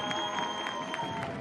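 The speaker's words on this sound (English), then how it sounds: "a good ovation from the crowd" Crowd applause at a professional soccer match between Charleston Battery and Tampa Bay Rowdies, a steady broad wash of distant clapping and cheering from the stands with soft bursts, and no talk.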